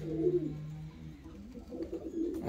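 Fancy and costume pigeons coo nearby in low, throaty rolling calls, a couple of soft bursts at the start and again near the end over faint background noise.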